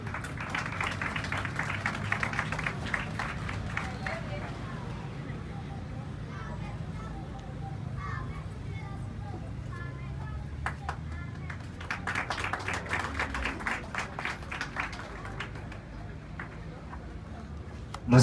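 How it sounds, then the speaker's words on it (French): An audience at a school excellence awards ceremony claps in two bursts, one at the start and a louder one later, with a hum of crowd noise and a voice heard in between. "Sous vos applaudissements."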